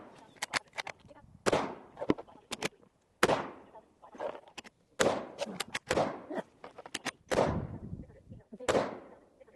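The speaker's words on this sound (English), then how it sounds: "We're gonna shoot it at 50 yards." Sharp, loud rifle reports from a Ruger M77 Hawkeye in 7mm-08 fired at an outdoor range at 50 yards, several shots at irregular intervals, each a hard crack with a ringing, echoing decay.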